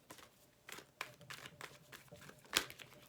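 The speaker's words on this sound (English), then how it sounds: "Just let me shuffle." Soft papery riffles and light slaps of Rider-Waite tarot cards being shuffled, in uneven bursts with one sharper snap near the end, quiet and close.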